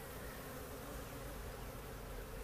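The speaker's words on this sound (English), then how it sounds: "The bees are flying around." Bees fly around a radio tower bee trap, a steady dense buzzing drone that fills the scene without a break, with no voices over it.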